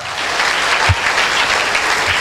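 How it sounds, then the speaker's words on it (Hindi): Loud, sustained applause from a gathered audience at a speech event in a village near Allahabad, a thick continuous clatter of hands with a couple of low thumps and no voices. "जोरदार ताली होनी चाहिए।"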